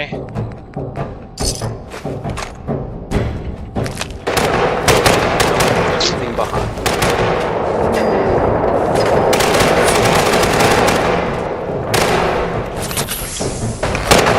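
Gunfire in the video game Fallout 4: sharp bursts and rapid volleys of shots with thuds in between, loud and close, while a voice talks over the action.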